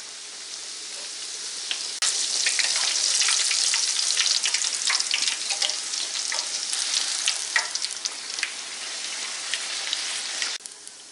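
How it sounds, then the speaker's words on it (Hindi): Bhature dough puffing in hot oil, a loud steady sizzle and bubbling crackle that swells after a couple of seconds and runs continuously, close up, with no talk. "ऑयल गर्म हो गया, उसमें डाल लेते हैं।"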